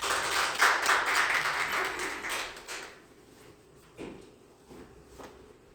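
An audience at a Korean literary association's new year ceremony and poetry recital applauds to welcome the chairman to the stage; dense clapping for about three seconds, then fading to a few scattered claps and room noise.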